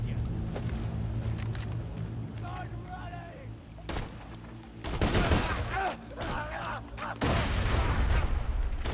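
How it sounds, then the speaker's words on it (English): Video game gunfire from Borderlands 2, with sharp bursts of shots and booming blasts coming in clusters over constant game ambience and music, loud and close, while someone talks between the volleys. "What are they shooting at?"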